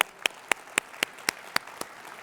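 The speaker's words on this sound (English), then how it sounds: "Give them a round of applause one more time" Crisp handclaps at a tech conference keynote come in a steady, evenly spaced rhythm of about eight sharp claps, fairly close, with no voices over them.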